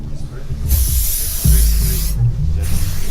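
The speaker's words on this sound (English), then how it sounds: "Spray." Aerosol hair spray hisses in two long continuous bursts at a hairdressing styling demonstration, loud and close, with a brief pause between them and low background murmur underneath.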